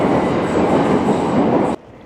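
A Germany underground metro train roars loudly and steadily past, a dense rumbling rush that cuts off abruptly near the end, leaving a quiet, hollow station ambience.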